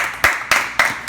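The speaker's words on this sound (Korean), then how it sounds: "박수." Four crisp hand claps, close and evenly spaced, with nothing else heard between them.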